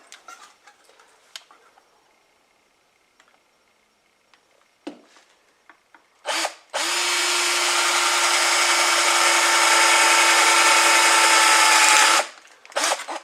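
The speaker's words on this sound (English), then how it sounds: "So let's get a hole drilled here." A power drill boring a hole in a homemade alcohol stove and pot stand workpiece with a block of wood underneath: a few scattered clicks, then a loud, steady whine for about five seconds before it stops.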